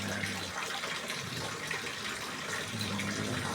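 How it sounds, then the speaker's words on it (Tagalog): Water running and dripping in a steady, even rush, close and continuous with no voices over it. "Yan sila sa nagtutulo na tubig."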